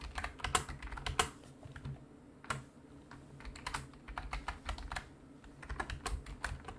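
Computer keyboard keys pressed in short bursts for Photoshop shortcut combinations such as Alt, Control and Delete, a run of crisp, close clicks and taps with brief pauses, no talking.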